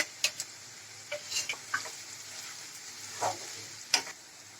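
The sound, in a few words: chopped onion and ginger frying in oil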